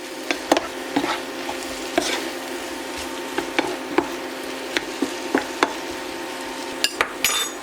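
Spiced ground meat and tomato mixture cooks in a pan with a low sizzle, punctuated by sharp clinks and scrapes of a utensil stirring at irregular intervals, close and alone.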